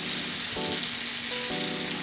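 Chopped shallot sizzling in butter in a pan, a loud, dense, continuous hiss close to the listener, with a faint tonal hum beneath.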